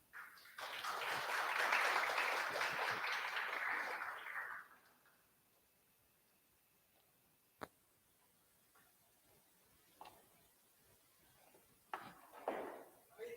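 A small meetup audience claps for about four seconds, then the room falls near silent apart from a few faint clicks and a short burst of quiet noise at the end.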